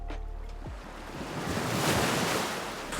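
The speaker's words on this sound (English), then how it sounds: "This is the waves crash sound effect." Ocean wave crashing over a rock: a broad rushing surge that builds and peaks midway, then washes on steadily, loud and close with a windy roar.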